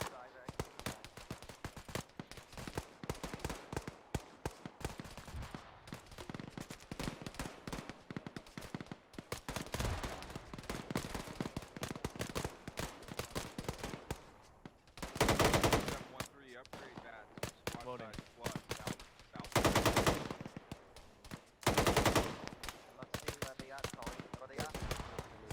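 Rapid gunfire rattles through a military simulation game of Arma, with dense bursts of automatic fire and single shots over a long stretch, several very loud close volleys, and voices talking in between.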